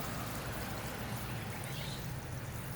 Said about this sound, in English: Just going to come over here and do a really good water.